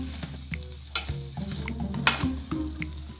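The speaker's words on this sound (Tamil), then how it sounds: "தேங்காய் போட்டு ஒரே ஒரு நிமிஷம் மட்டும் வதக்கிட்டு நம்ம இறக்கிடலாம்." Grated coconut and vegetables being sautéed in a pan give a steady close sizzle and frying hiss, broken by repeated scraping stirs of a spatula against the metal.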